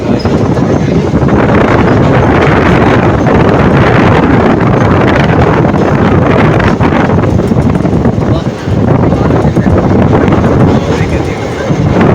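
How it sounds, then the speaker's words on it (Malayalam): Strong sea wind roars across the old Pamban railway bridge, buffeting loudly and continuously over the rumble of a moving train. "കാറ്റുണ്ട്."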